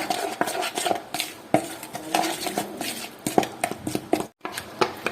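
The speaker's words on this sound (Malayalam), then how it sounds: "ഇനി ഇതെല്ലാം കൂടെ നന്നായിട്ട് മിക്സ് ചെയ്യാം" A spoon scrapes and clinks against a bowl while chicken marinade of yogurt, lemon and masala is mixed, irregular close taps and wet stirring strokes with a brief pause near the end.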